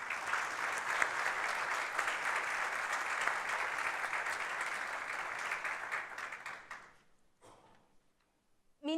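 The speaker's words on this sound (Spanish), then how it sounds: "les pido que también recibamos al licenciado con un fuerte aplauso" Audience applause at an evening forum welcoming a licensed guest speaker, steady dense clapping for about seven seconds before fading out into near silence.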